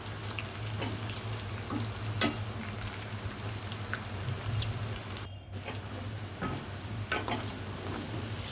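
Peanuts deep frying in oil for a crunchy potato curry give a steady, low-level bubbling sizzle with faint crackles, over a constant low hum.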